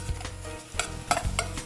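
Mushrooms cook in a pan after browning as salt and pepper go in, with a soft sizzle under repeated scraping and stirring strokes from a utensil, heard close and steady.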